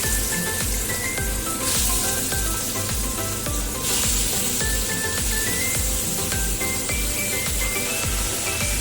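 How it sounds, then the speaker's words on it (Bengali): Prawns fry in hot oil in a home kitchen, a loud dense continuous sizzle with steady crackling that holds at an even level throughout, with no talking. "চিংড়ি মাছ কিন্তু খুব অল্প করে ভাজবো"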